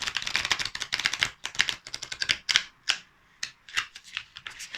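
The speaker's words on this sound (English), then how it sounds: "Let's pull some cards from the Sacred Traveler deck." Tarot cards from the Sacred Traveler deck are handled and pulled, making a dense, close run of rapid papery flicks and clicks with one short pause before the flicking resumes.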